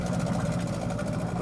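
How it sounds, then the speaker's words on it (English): Dredgers working in a marina give a continuous low engine drone and rumble at moderate distance, steady and unbroken, with no talk over it. "Some dredgers. Sorry for the noise."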